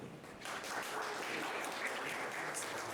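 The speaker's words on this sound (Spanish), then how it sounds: "un aplauso para Mariana" An audience at a careers panel discussion breaks into steady, sustained applause that swells after the first half-second and carries on evenly, many hands clapping together with no voices over it.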